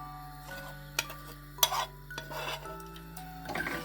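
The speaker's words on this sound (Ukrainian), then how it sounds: "тепер сюди я додаю цибулю" Onion goes into a pan of creamy sauce for a potato and meat dish. Faint sizzling sits under sharp clinks and a scraping rustle, with a low steady hum behind. No voices.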